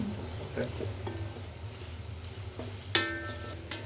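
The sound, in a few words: chopped onions frying in soybean oil for beresta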